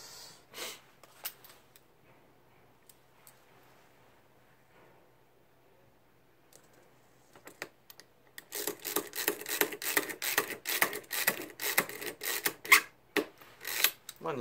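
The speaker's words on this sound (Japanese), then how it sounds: "これ今打ってんのは普通のね木ネジ、ちょっとちっちゃい木ネジですけどね" Small ordinary wood screws are driven into the frame of a wooden box frame, giving a quiet opening followed by a dense run of loud, rhythmic rasping bursts from a close driver, with no talk.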